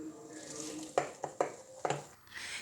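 Flour gets mixed into a batter a little at a time, with several sharp scraping and tapping strokes of a spoon against the bowl over a soft background.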